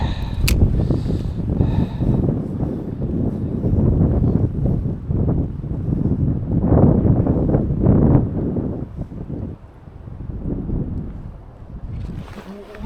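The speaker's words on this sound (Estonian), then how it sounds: "Täna on väga tuuline." Strong wind blows outdoors at a fishing spot on a shore, a steady broadband rush with gusts throughout, no talk over it.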